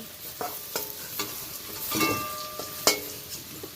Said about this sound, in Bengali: আলু ভেজে রাখা এই তেলের মধ্যেই আমি দুটো শুকনো লঙ্কা দিয়ে দিলাম একটু নেড়ে নিলাম